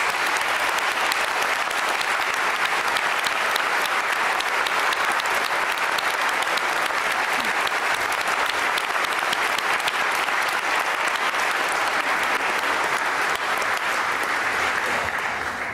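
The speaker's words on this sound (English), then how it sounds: "So may I ask you all to applaud our graduates from today." An audience at a university graduation ceremony applauds the graduates, a dense, steady wash of clapping from a large crowd that holds at full loudness for the whole stretch, with no voices over it.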